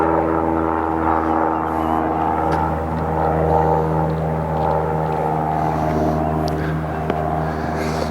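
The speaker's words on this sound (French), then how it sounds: "il y a l'avion qui passe" A propeller airplane passes overhead at a golf driving range, its loud, steady engine drone holding throughout without voices.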